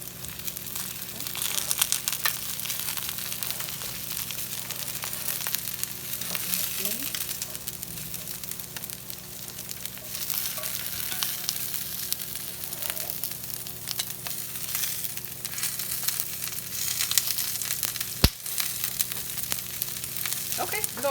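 Balsamic Brussels sprouts frying in a pan give a steady, close sizzle that runs the whole time, with faint crackles and one sharp clink near the end.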